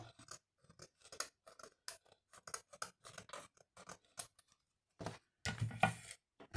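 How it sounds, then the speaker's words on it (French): Scissors snip through paper in a rapid run of sharp, close cuts while trimming overhanging material on a handmade card, followed by a louder burst of rustling handling. "Là, ça dépasse, donc je coupe."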